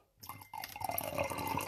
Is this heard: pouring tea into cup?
yes